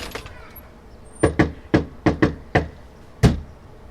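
Knocks on a door tap out the opening rhythm of the Super Mario Bros. theme, seven sharp raps in a syncopated pattern, close and clear, with quiet room tone between them.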